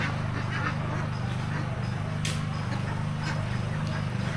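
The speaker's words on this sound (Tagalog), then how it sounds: "so yan po ang second batch ng Itik Pinas ni Sir Renanti Calis dito po sa Davao de Oro" Flock of three-month-old Itik Pinas ducks in a concrete-floored pen in Davao de Oro, a steady dense chorus of honking quacks and calls filling the whole stretch, close and continuous with no talk.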